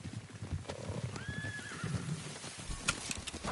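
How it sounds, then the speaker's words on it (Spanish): Horses neigh and whinny in the video game Ghost of Tsushima, with a clear whinny in the middle and clip-clop hoofbeats of galloping throughout, heard at moderate distance. "¡Caballos! ¡Vienen por nosotros!"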